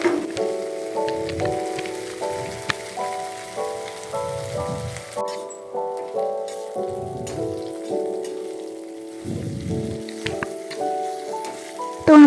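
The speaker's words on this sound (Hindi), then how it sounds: "सफ़ेद तिल को थोड़ा सा ऐड कर देंगे और ढोकले को हल्का सा गुलाबी होने तक हमें तल लेना है" Dhokla pieces with white sesame seeds frying in hot oil give a soft, steady sizzle and crackle heard beneath loud devotional music that dominates throughout.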